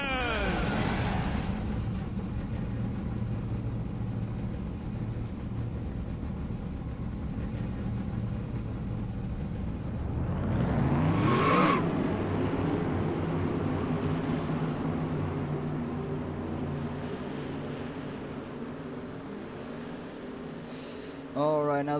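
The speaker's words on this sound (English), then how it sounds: "Alright, now that we got the engines fired up" Race car engines in a Cup Series stock car racing video game at Texas Motor Speedway fire up and rev loudly together, a steady dense roar with a rising rev sweep partway through.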